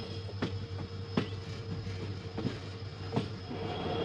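The Poorna Express climbs a ghat section with a steady rolling rumble and a few sharp rhythmic wheel clacks at intervals, heard from inside the train.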